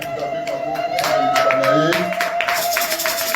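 A church congregation claps and cheers, a steady wash of applause with a sustained tone running beneath and voices mixed in.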